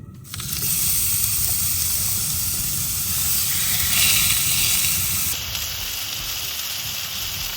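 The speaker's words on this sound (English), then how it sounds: "Now they're seasoned, we're gonna put them in the hot pan," Seasoned burger patties sizzling in a hot pan on a camping stove, a loud, dense steady hiss that starts abruptly and carries on, easing slightly near the end.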